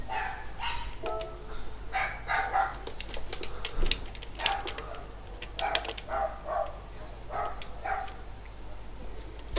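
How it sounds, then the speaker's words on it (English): Small dogs barking repeatedly in quick, yappy bursts at moderate distance over a steady low background hum, with no talk. "Why is it always the little dogs that are rah rah rah rah rah?"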